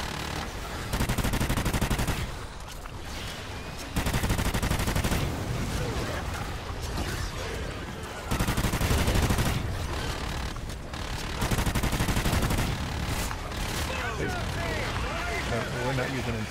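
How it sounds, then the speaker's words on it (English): Gunfire in a shooter video game: long, loud stretches of rapid automatic shots broken by brief pauses, dense and close, with a voice speaking over parts of it. "I'm just gonna shoot at the hive with my gun."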